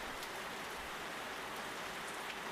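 Steady rain falls in a continuous even hiss, with occasional drips pattering on a surface, dense and unbroken throughout.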